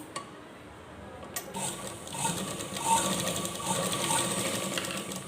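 A sewing machine stitches a fancy dress, its motor whirring up into a steady rapid hum with rattling needle clatter, close and moderately loud, starting after a few soft handling clicks.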